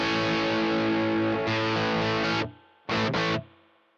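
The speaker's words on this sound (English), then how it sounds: "So on this setting, I believe, when you have the toe down, you're at your maximum gain." Electric guitar run through a Boss ME-90 overdrive with the expression pedal set toward maximum gain: thick, sustained distorted chords ring loud and close, cut off abruptly, then two short stabbed bursts follow.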